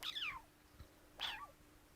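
A cat lets out two separate meows, each a falling, drawn-out cry, with a short gap between them. Both come from close by in a quiet living room.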